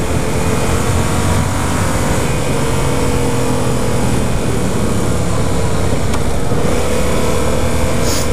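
A 2015 Yamaha FZ-07 motorcycle being ridden in second gear, steady loud engine drone mixed with heavy wind rush, continuous throughout with no talking.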